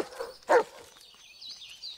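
Bullet, the dog in the video game Blair Witch, lets out a single short bark amid quiet surroundings, followed by faint high ambient tones.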